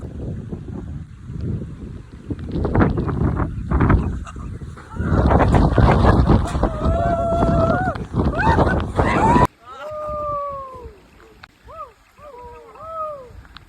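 Gusty wind rushes loudly against the microphone in bursts in Ooty, with geese honking nearby and voices mixed in.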